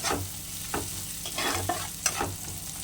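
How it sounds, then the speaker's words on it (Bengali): Spice masala for tangra fish being stirred in a hot pan, giving a soft continuous sizzle broken by several distinct scraping strokes and clinks of a spatula against the pan, close and alone. "একটু নেড়ে চেড়ে নেব মশলাটা খুব বেশি ভাজবো না"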